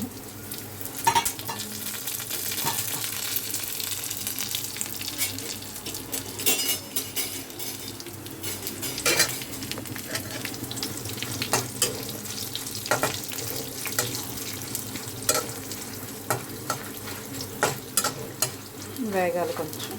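Garlic, coriander seeds and cumin fry in a pan for Andhra-style gongura chutney, a steady close sizzle broken by repeated sharp crackles, pops and utensil scrapes.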